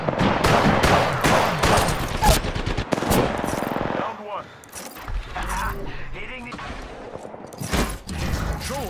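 Charge rifle fire in the video game Apex Legends during a Caustic match, a dense stretch of rapid shots and clicking weapon mechanisms, loud at first and then thinning into scattered bursts with a faint voice underneath.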